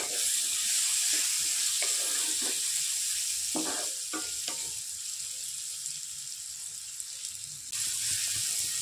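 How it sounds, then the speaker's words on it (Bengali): Spices and chopped tomato fry in a pan with a steady, close sizzle, broken by a few scraping stirs as the mixture softens. "মশলার সঙ্গে টমেটো দিয়ে ভালো করে ভেজে নেব, যাতে টমেটো ভালোভাবে নরম হয়ে যায়।"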